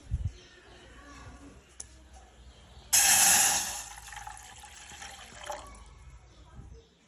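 Water pours into a container for about a second, a loud close gush that trails off into quieter trickling and drips, set among faint background sounds.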